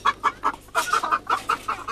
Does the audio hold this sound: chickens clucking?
yes